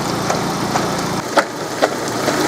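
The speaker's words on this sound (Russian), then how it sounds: "Очень отчетливо слышно, как этот ремень постукивает, но двигатель продолжает работать" A VAZ 16-valve car engine idles with a damaged, knocking timing belt. Light, evenly spaced taps repeat about twice a second over a steady close-up mechanical hum.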